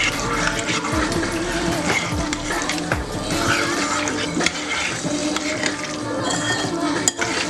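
Cheese powder being mixed into cooked boxed macaroni made in the microwave, with steady wet scraping and clinking of a utensil against a bowl, continuous and close, with background radio underneath.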